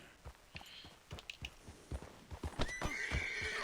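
A horse in Red Dead Redemption 2 neighs and whinnies close by over clip-clopping hooves, with several sharp snorts and a rising whinny toward the end. No one speaks.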